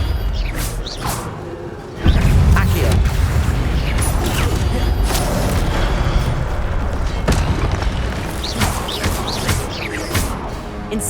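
The Incendio fire spell goes off with a heavy, booming burst in Hogwarts Legacy. A rumbling roar follows it and sustains, with creaking, mechanical-sounding game effects over a dense background.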